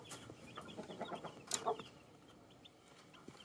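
A rooster and young chicks cluck close by in a short burst, with quick overlapping calls and one louder squawk near the middle, no talking.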